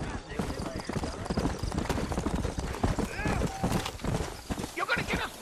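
Horses' hooves clip-clop steadily and briskly in the Red Dead Redemption video game, the close, busy hoofbeats running under voices talking over them.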